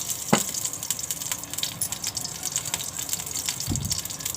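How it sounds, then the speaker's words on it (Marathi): Cooking oil is poured into a hot kadhai, producing a soft gushing pour with faint sizzling and a couple of brief knocks of the vessel, heard close and fairly quiet. "तेल घालून घेते"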